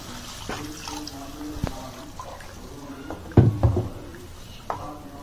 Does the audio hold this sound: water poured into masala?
yes